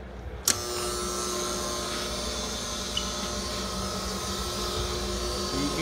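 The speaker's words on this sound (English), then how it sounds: "so the coolant's gonna come out of here" Coolant pours steadily from the nozzle of a Hardinge DV-59 turret lathe, a continuous hissing wash over a constant machine hum, with a sharp knock near the start and a faint tick later.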